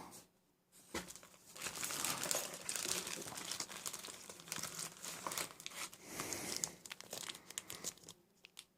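Ziploc plastic bags holding Bandai Master Grade Gundam Heavyarms model kit parts, crinkled and rustled up close in a continuous irregular crackle, with no talk over it.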